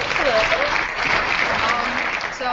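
A crowd claps and cheers as a contestant is introduced at a survival challenge gathering, a dense wash of applause filling the brief moment with voices mixed in.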